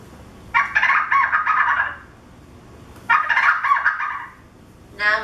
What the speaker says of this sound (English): Listen closely to this bird song.